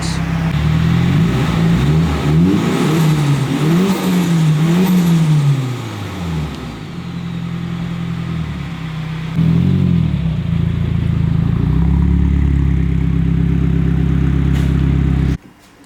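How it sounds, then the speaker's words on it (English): A Nissan S15 Silvia engine with the stock airbox revving close by, the pitch rising and falling through several blips before settling into a steady idle, then cutting off. "Show you a quick before sound test with the stock Airbox."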